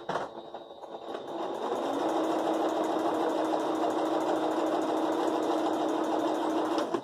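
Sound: sewing machine stitching a diagonal seam on fabric

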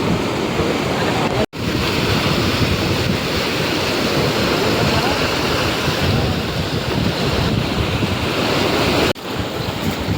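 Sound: sea waves breaking on the shore

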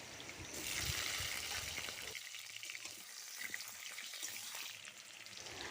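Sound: potatoes frying in mustard oil

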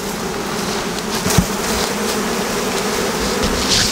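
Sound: honeybees buzzing at hive

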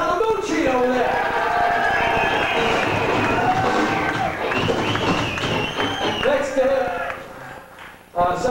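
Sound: audience applause and cheering for the lead guitarist

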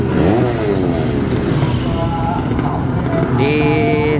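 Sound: racing motorcycle revving while being tuned

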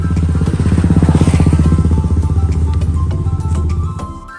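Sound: new Yamaha R15 motorcycle engine

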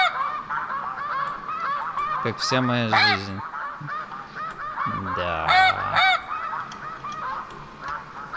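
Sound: snow geese honking in the video game theHunter

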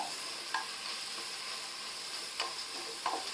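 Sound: chopped onion sautéing with whole garam masala in a pan

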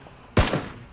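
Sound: gunfire in the video game PUBG

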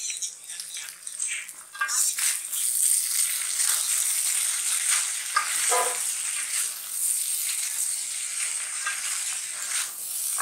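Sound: rice being added to a hot pan and frying

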